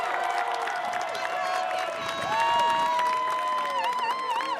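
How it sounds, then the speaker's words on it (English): Crowd at the University of Northern Colorado spring commencement cheers and applauds its graduates, a steady wash of clapping with whoops and shouts running throughout at strong level. "Let's hear another big round of applause for our graduates."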